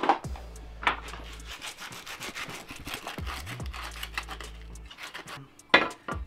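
Cut curved wooden pieces sanded by hand, steady raspy rubbing strokes repeating in a quick rhythm, close and fairly loud, with a low background hum and a few sharper knocks.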